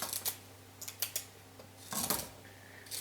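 Bunched asparagus spears being cut into small pieces, several short sharp chopping clicks spaced unevenly, then a longer cluster of cuts near the end, close with no voices.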